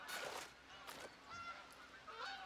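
Greylag geese in the hunting game Hunter: Call of the Wild, on a coastal map, give several faint nasal honks in quick succession, distant and low in level, with no talk.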